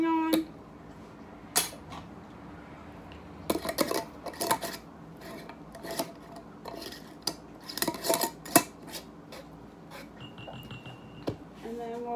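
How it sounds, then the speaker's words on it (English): A lid and ring going onto a glass canning jar of beef, with sharp metallic clinks, taps and twisting clatters in bursts amid quiet pauses. "And put a lid and a ring on."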